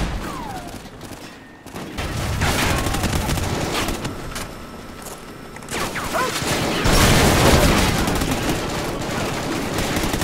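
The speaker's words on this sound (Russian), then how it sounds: "Ща граната рванет." Grenade blast and surrounding battle noise in the Call of Duty: Ghosts game, dense continuous gunfire with a swelling loud burst, close and heavy throughout.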